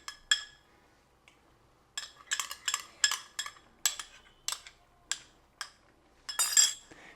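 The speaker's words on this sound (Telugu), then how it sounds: "ఇది కూడా ఉండన్నది లేకుండా చక్కగా కలుపుకుంటూ ఉండాలి" Milk with cornflour being stirred in a pan, the spoon making a string of sharp metallic clinks and scrapes in irregular bursts, close and clear, with quiet gaps between.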